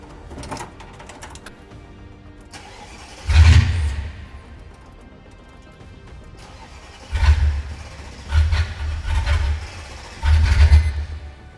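An abandoned Mercedes G Wagon engine is revved with the accelerator in four loud bursts, each rising and falling back to a rough, quieter idle, with no talking.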